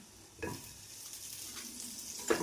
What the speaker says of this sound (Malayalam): കശുവണ്ടി മുന്തിരി വറുത്തിടാം